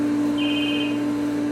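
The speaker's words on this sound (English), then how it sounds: "That's the phone." A telephone rings briefly beside a pool, a short electronic trill over a steady hum of pool equipment, faint and a little distant.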